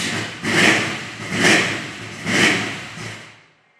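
Hot rod engine on a new, untuned EFI setup, rising and falling in three broad revving swells over a rough idle, close and fairly loud with no talk.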